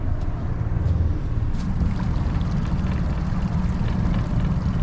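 An Ocean Pro 220 boat's engine idling at low speed, a steady deep rumbling drone mixed with wind buffeting the microphone, loud and continuous throughout.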